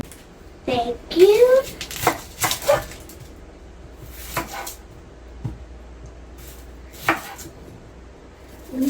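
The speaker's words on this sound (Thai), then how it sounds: "ตอนแรกเราหั่นหัวหอมก่อนนะคะ หั่นเป็นชิ้นเต๋าเล็กๆเลยนะทุกคน" A knife dices onion on a cutting board with a few sharp chops, while a dog whimpers and barks nearby and someone talks.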